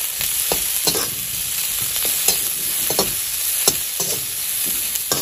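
Onions frying in a little oil in a pan for an Assamese pork curry with elephant apple: a steady close sizzle broken by repeated sharp clinks and scrapes of a spoon stirring against the pan.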